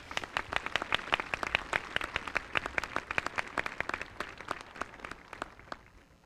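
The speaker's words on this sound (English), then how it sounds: "So let's give her a special round of applause." A small audience claps for several seconds, the individual claps distinct and fairly quiet, fading slightly at the finish.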